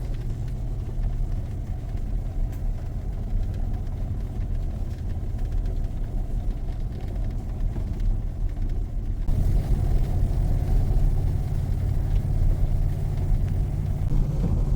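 A four-wheel drive vehicle climbs a steep mountain driveway with a loud, close, continuous low engine rumble that grows heavier about two-thirds of the way through. No one speaks.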